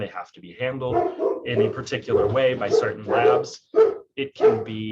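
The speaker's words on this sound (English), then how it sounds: "excuse my dogs barking at the Google Fiber people" Dogs bark at people outside the house, short sharp yips and woofs breaking in over a person talking close by.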